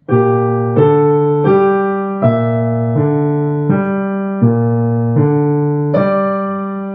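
A piano plays a short bar of Schubert's Serenade, about eight evenly spaced notes, each ringing before the next, clear and close with no talking.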